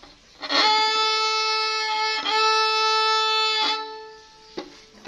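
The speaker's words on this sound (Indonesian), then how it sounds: "kita praktek dulu yang sebelum pakai mute suaranya seberapa ya." A violin played without a mute, loud and bright bowed notes held long with a few bow changes, close and unaccompanied, fading out at the end.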